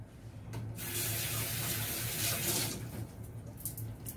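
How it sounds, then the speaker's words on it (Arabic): Warm water poured from a tap or jug into an oven baking tray for roasting chicken, a steady close splashing stream lasting several seconds, tapering at the end, with no voices. "هنجيب بقى ميه، هنحط في الصينيه طبعا ميه"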